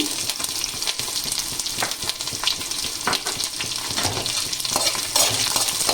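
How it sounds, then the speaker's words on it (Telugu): Onions sizzling in hot oil with curry leaves in a pan, a continuous close crackling fry broken by a few stirring scrapes, steady and fairly loud, with no talking. "ఇప్పుడు మనము ఉల్లిగడ్డలు వేసుకుందాము"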